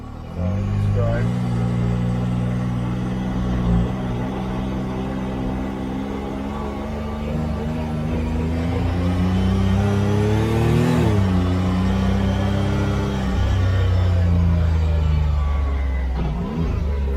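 A Maverick R being driven, its engine droning steadily with smooth rising and falling pitch as it gets up to speed, loud and close throughout, with a brief surge near the middle.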